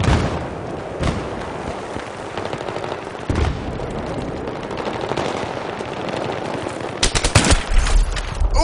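Sustained automatic fire from a P90 in a Battlefield 3 online match, loud and near throughout. Rapid bursts run without pause, with sharper shot clusters near the end.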